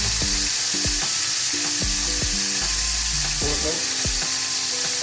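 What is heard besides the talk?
frying in a pan before adding garlic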